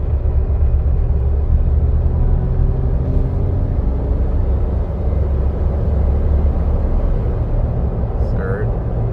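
A 2016 Jeep Wrangler with a 4.88:1 rear differential gear change drives along, its engine and road noise a loud, steady low rumble from inside the cabin as it shifts into second gear, with someone talking over it.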